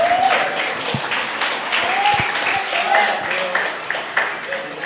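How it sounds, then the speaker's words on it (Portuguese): Church congregation applauding, a steady wash of clapping from many hands filling the room, with faint voices mixed in. "aplauda Jesus, você que crê nisso."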